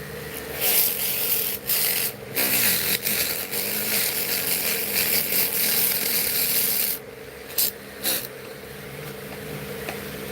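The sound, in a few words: Dremel rotary tool sanding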